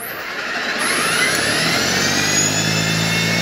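An EGO 56-volt two-stage battery snow blower running on turbo mode with two 7.5 amp-hour batteries, its steady high-pitched electric motor whine and impeller whoosh rising quickly to full speed and then holding loud and close.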